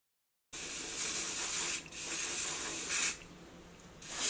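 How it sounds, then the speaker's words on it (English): Hairspray hisses from an aerosol can onto hair styled into a high ponytail: two long, steady bursts close up, then the start of a third, with no talking. "I always use the even spray to hold everything up into my high ponytail."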